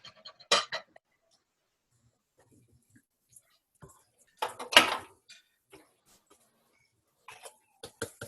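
A spatula lifts toast off a pan and sets it on a plate: a few scattered metallic scrapes and clatters, a clustered burst in the middle, and quiet gaps between them.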